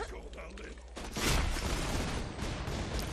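Dense, rapid gunfire in Borderlands 2 erupts loudly after a moment of quieter mechanical noise, continuing as a sustained burst with a voice faintly underneath.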